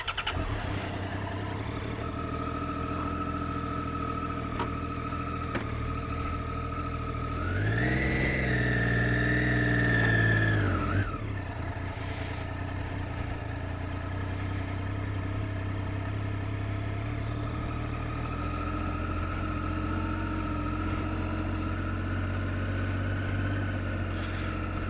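A motorcycle cruising slowly around Jake's Corner, Arizona, its engine humming steadily near the mic, with a brief rev that rises then settles back to a low, even drone.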